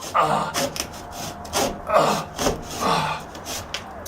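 Drywall saw cutting through sheetrock while patching a hole, with rhythmic back-and-forth rasping strokes, about six close strokes in quick succession, no talking.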